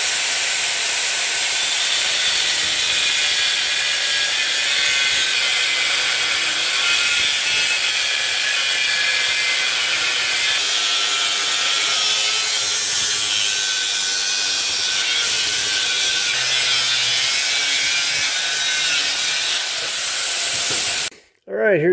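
A cutting wheel slices off the flange of a scrap wheel hub in a workshop, giving a long steady high-pitched grinding hiss that runs for about twenty seconds before stopping abruptly at the end.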